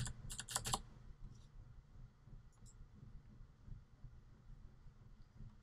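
Short flurry of soft computer keyboard taps entering a value, a handful of quick clicks near the start and then a couple of faint isolated keystrokes over a low, quiet room hum.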